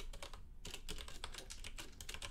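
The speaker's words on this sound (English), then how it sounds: "I'm just going to type print" Rapid, close typing on a computer keyboard while writing script code, with irregular bursts of sharp key clicks and a short pause partway through.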